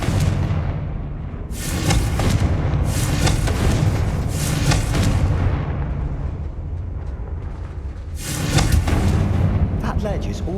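In Hogwarts Legacy, fiery Confringo spell explosions fill a game battle against Ranrock's loyalists, with repeated loud booming bursts over a continuous rumbling background.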